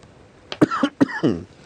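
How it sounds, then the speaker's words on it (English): A few short, harsh coughs in quick succession, close and fairly loud, with brief pauses between bursts. "we can see you still have a cough"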